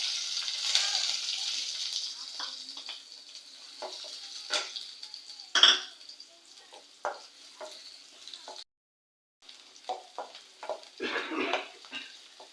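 Finely chopped ginger and garlic fry in oil with spices for egg curry, a soft sizzle broken by repeated spoon stirring and scraping against the pan, with a few sharper clinks and a short silent gap.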